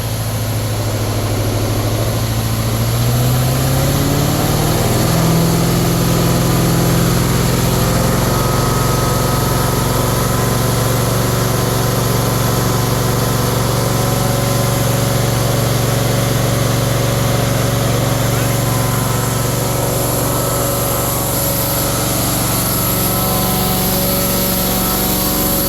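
An Amtex Stack 570 engine runs loud and steady as the throttle is moved, its pitch rising over the first few seconds and then holding at a constant high drone throughout.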